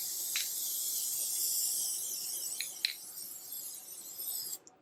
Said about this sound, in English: now I'm just using Gorilla Spray adhesive.